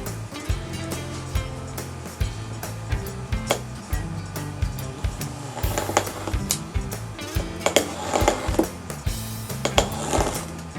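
A craft knife slices slightly embossed paper along a chipboard edge on a cutting mat, giving a dry, rasping scrape in repeated short strokes at close range with a few sharper cracks as the excess tears away.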